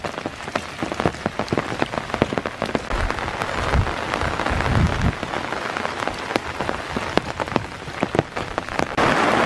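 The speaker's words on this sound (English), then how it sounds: "it is raining very hard" Heavy rain pours steadily on a foggy November morning in Iroquois Park, a dense, loud hiss of drops spattering nearby surfaces, with sharper close drips scattered throughout and no voices.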